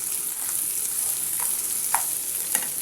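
Leafy greens frying in a pan as they are stirred, a bright, steady sizzle heard up close, with a few soft taps from the spoon.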